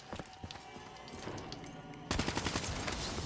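KN-44 assault rifle fire in Call of Duty Black Ops 3 Zombies, scattered single shots that break into a loud, rapid automatic burst partway through.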